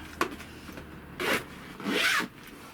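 Two long zipper pulls as the fabric side window zips of a caravan pop-top roof are done up, preceded by a brief rub, close and clear with no talk.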